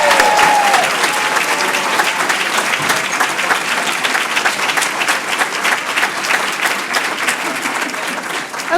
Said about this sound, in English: Again, please, one more round of applause.